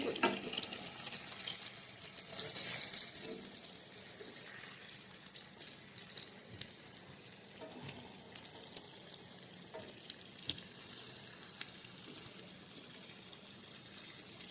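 Hot oil bubbling and sizzling steadily as chhana and dal fritters fry, a dense continuous crackle with a louder stretch at the start and faint scattered pops throughout, no talking.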